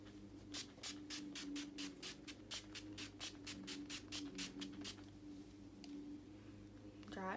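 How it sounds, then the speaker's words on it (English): Face setting spray is misted close to the mic in a rapid run of about a dozen short, hissing spritzes, then stops, over a steady low background hum. "I'm gonna spray my face."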